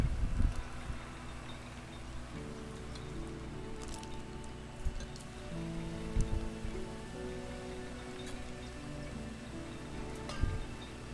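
Steady patter of rain in the winemaking game Hundred Days, a soft continuous wash of drops running the whole time beneath layered, sustained background music, with a few light ticks scattered throughout.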